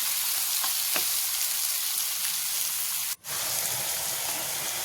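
Beans frying in hot oil for a village-style palya, a steady dense sizzle filling the whole stretch with a brief dip near the end, no voices.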